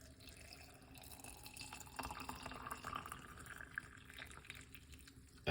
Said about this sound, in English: we're gonna top it up with some lukewarm water